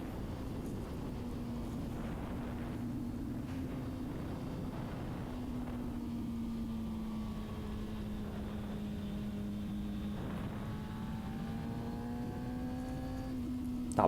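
Honda CBR600RR supersport motorcycle riding with a steady engine drone, wind rush over the microphone, and revs dipping and rising with quick throttle blips as the auto-blipper works on downshifts; no talking.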